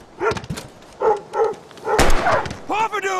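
Dog barking in the Life is Strange video game, several short sharp barks and yips spread across a few seconds, loud and close, mixed with tense game dialogue.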